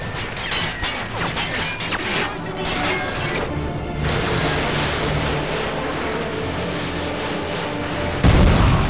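AGM missile strikes in the video game Modern Warfare 2, a dense, loud barrage of overlapping booms and crashing impacts that runs continuously, with a heavier blast near the end.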